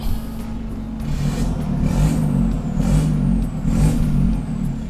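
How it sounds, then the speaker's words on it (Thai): An Isuzu D-Max 2022 1.9 Ddi pickup truck diesel engine idles with a steady low rumble, then revs up in three short surges, each swelling and settling back, heard up close. "ลองเบิ้ลๆให้ฟังนิดนึงแล้วกันนะครับ"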